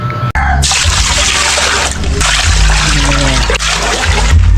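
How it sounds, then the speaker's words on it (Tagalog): Water splashes and gushes into a pot on a charcoal stove in several close, loud pours from a dipper, with brief pauses between dumps. "Tapos lagyan po natin to ng apat na tabo na tubig."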